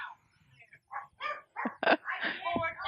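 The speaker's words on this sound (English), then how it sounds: "Why are you making the dogs bark?" Dogs in a visual novel bark and yip in a quick, irregular run of sharp barks, loud and close, with a whimpering edge and voices mixed in.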